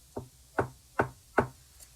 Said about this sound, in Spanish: golpearon la puerta de la calle.